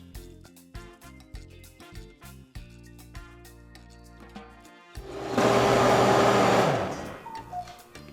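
A kitchen blender purees rice and milk for Venezuelan chicha, a loud whirring burst of a second and a half that winds down, set against rhythmic background music.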